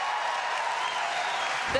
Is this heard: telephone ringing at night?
no